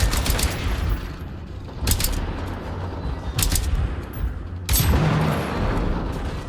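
Bursts of gunfire in the video game Generation Zero, loud rapid volleys separated by brief gaps, several clusters of sharp shots with booming tails.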